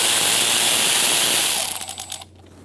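Ratchet loosening Torx bolts underneath a Ford Focus, a loud close burst of mechanical clicking and whirring that fades into a few ratcheting clicks before stopping.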